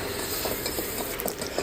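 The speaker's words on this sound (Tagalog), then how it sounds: "Maggigisa lang po tayo rito ng bawang po" Garlic sautéing in a hot pan, a steady close sizzle with light stirring scrapes running throughout, no talking.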